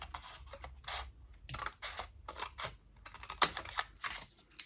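Repeated short crisp snips and rustles of scissors cutting through card, close and fairly quiet, in an irregular rhythm.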